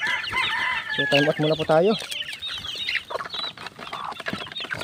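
Chickens and chicks at a feeding trough on a small poultry farm, with loud clucking and a brief rooster-like crow, plus scattered pecking and chirps while someone talks briefly.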